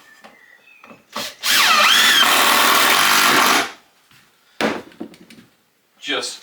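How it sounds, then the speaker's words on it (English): A power drill drives screws into a wooden garden bench, one loud sustained whirring burst of about two seconds close by, followed by shorter bumps of handling and knocks. "Let's put a couple of screws in for now."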